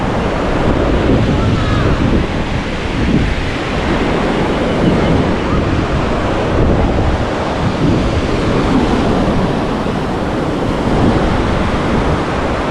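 Steady, loud ocean surf at the south end of Kata Beach in Phuket, a continuous broadband wash of breaking waves mixed with wind buffeting the microphone and no distinct voices.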